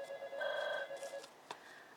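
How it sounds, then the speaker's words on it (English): A telephone rings with a steady electronic trill that holds for about a second and a quarter, then a short tap and a fainter tone follow. No one speaks. "Sorry about the phone ringing."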